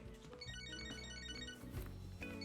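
A cell phone rings in the video game Catherine: Full Body, a short repeating melodic ringtone playing quietly and steadily on its own.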